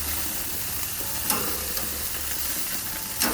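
Thin boneless chicken thighs sizzle in a hot pan with a steady, crackling fry hiss and a few brief pops, close and moderately loud with no talk.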